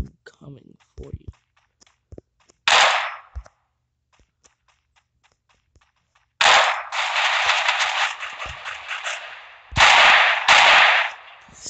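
Video game gunfire comes in sharp bursts: scattered single shots, then a long sustained volley of rapid fire followed by two more loud bursts, close and dominant with brief quiet gaps between.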